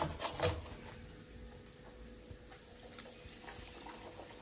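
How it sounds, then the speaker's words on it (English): Spanish anise doughnuts (roscos de anís) frying in hot oil in a fryer give a faint, steady sizzle and bubbling, a little louder at first, with no talk. "put some more donuts in the oil"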